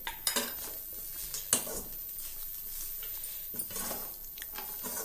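Grated coconut stirred into aval upma (flattened rice) in a metal pan, with a spoon scraping and clinking against the pan in a few sharp, close knocks over a quiet background.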